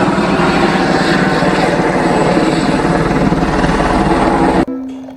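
A green toy military helicopter gives off a loud, continuous whirring rotor drone that holds steady and then cuts off abruptly, leaving a quieter electronic hum.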